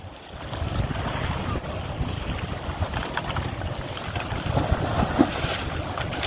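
Heavy waves pounding a small fishing boat at sea off Bicol, a close, loud, continuous surge of sloshing water and wind rumble with surges building toward the end.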